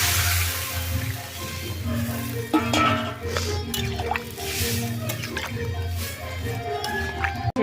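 Water poured into a pan of potatoes being cooked down for a Bengali rohu fish curry, with liquid dripping and squishing against the pan and occasional clinks, fairly steady throughout with no talk.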